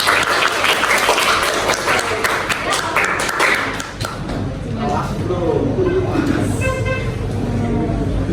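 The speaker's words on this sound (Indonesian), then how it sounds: "Abil, tepuk tangan." Group applause in a university class session on group counseling, a brief burst of many hands clapping that fades into people talking.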